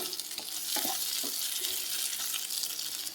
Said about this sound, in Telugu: ఇలా బాగా మిక్స్ చేసుకొని మూత పెట్టేసి ఒక 10 నిమిషాలు ఫ్రై అవ్వనివ్వాలండి